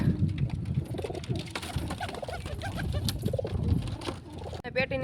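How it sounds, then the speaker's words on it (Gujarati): Pigeons coo in a pigeon house, a dense chorus of overlapping throaty coos close by that continues steadily throughout, with a brief sharper sound near the end. "બધા જ કબૂતર અત્યારે ઉપર બેઠા છે"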